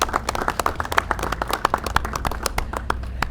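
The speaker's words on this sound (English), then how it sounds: "I would like to first of all just give a huge round of applause for the team members for Clean and Safe" An audience claps for the Clean and Safe team members at a downtown San Diego public event, giving a few seconds of dense, steady applause with sharp individual hand claps standing out up close.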